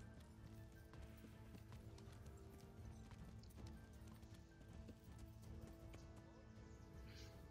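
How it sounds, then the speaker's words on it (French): A horse gallops steadily in the medieval role-playing game Kingdom Come: Deliverance, with rapid, continuous hoofbeats, a brief whinny and a dense background of game sounds throughout. "J'ai appelé mon cheval. Hop, on monte, on court."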